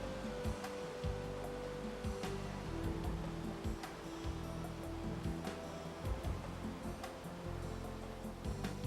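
Fletcher Falls, a waterfall near Kaslo in the BC Rockies, roars as a steady, dense wash of rushing water, loud and unbroken throughout, with only faint background shifts and no voices.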